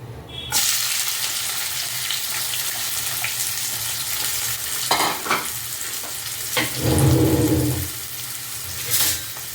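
Goat head pieces fry in hot oil for a curry, a steady loud sizzle starting abruptly after a brief quiet opening, with stirring scrapes and a short burst of running tap water near the end.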